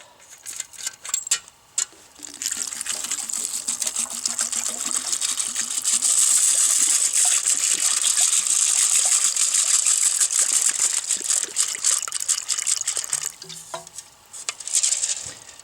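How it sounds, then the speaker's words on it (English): Water pours steadily over macaroni in a pot for a long stretch, a bright continuous gushing and splashing close by, with a few clinks of cookware at the start and end. "I'm going to add some water."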